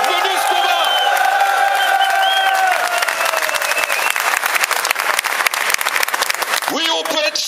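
A large crowd of workers at the end of a seven-week strike breaks into loud applause, with cheers and whoops. The clapping is thick and sustained at first, then turns into rapid, ragged clapping with shouts.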